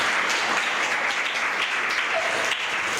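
A crowd claps steadily at a devotional gathering honouring a Jain monk in Dhar, the dense applause holding for the whole stretch with no talk on top.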